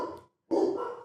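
A dog barks twice, close and fairly loud: a short bark, a brief silence, then a longer, fuller bark.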